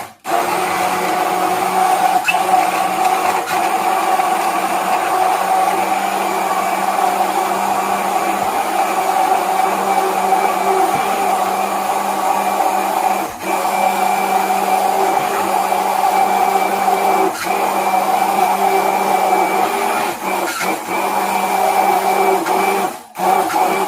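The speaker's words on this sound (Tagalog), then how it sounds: "i-blend muna natin" An electric blender runs steadily on a homemade tocino marinade, a loud continuous motor whir that holds for over twenty seconds with only brief dips, no voices over it.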